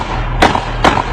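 Two sharp gunshots ring out during a rapper's Instagram live stream, about half a second apart, loud bursts over a steady background of low hum and noise.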